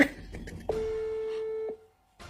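An outgoing telephone call gives one steady ringing tone lasting about a second, clear and electronic, preceded by brief clicks and followed by silence before another tone begins.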